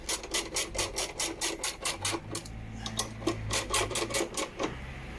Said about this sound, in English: You're going to start with your 12mm ratchet, tighten your bolts